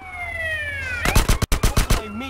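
Rapid bursts of gunfire crack in GTA San Andreas, a tight cluster of loud shots following a rising siren wail in the game's street scene.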